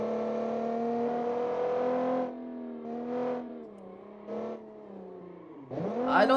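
A 1960s sports car in a racing video game revs hard as it accelerates, its engine note climbing, dropping at gear changes, then surging again, loud and close with no talk.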